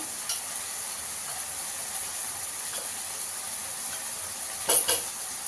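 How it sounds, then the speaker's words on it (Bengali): Ground spices, turmeric, cumin and coriander with ginger-garlic paste, sizzling in a pan for chicken curry: a soft, steady frying hiss with a brief louder stirring scrape near the end, no talking. "ভালো করে কষিয়ে নেবো মশলাটাকে"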